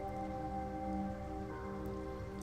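Steady rain falling in a Steins;Gate 0 video game scene, a continuous even patter under a soft tonal background that runs without a break and stays at the same level.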